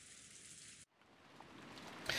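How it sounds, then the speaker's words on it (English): Rain falling in the video game Umineko: When They Cry, a soft steady hiss that cuts out briefly, then returns and gradually builds louder, alone without any voices. "Outside, the rain was no longer falling weakly."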